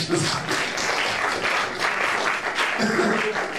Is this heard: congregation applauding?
yes